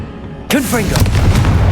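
A Confringo fire spell in Hogwarts Legacy: after half a second of near silence, a sudden blast erupts with swooping tonal whooshes, then settles into a loud, sustained rumbling crackle.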